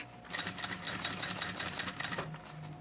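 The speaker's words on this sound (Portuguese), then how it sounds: "venho passando a costura. Vem com a minha máquina aqui" Sewing machine stitching a synthetic leather school pencil case, a steady fast mechanical whir with rapid needle clatter running continuously and close up, with no talking.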